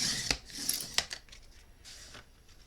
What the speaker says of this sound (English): We'll cut down just inside that mark.